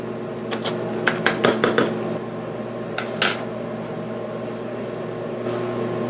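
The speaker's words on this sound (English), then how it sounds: "I'm going to take my spoon, kind of mash it down into the pasta just a little bit" A spoon presses and scrapes cheese down into pasta in a dish for an Italian pasta pie, giving a short run of close metallic clinks and taps over a steady background hum, then a couple of later scrapes.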